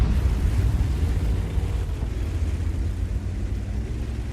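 Tank shell fired from a Conqueror Gun Carriage in a video game, a deep, rumbling low boom that fills the whole stretch and slowly fades, with no talking.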